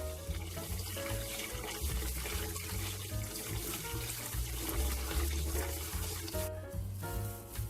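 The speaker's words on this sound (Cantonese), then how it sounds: "咁我就用普通嘅熱水喉嘅啫，不過都好熱嘅" Hot water from a kitchen tap runs over tofu puffs in a sink, a steady splashing stream with gurgles as the flow shifts, close and moderately loud with no talking.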